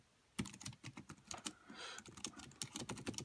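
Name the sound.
typing on a foldable eSynic bluetooth keyboard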